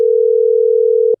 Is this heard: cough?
no